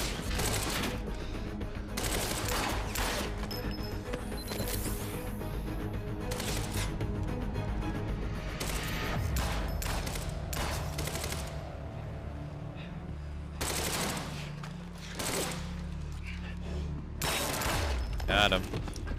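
Gunfire sound effects in the video game Quantum Break, a busy firefight with rapid sharp shots and bursts over a steady rumble of game noise and mechanical clatter, with no clear pauses.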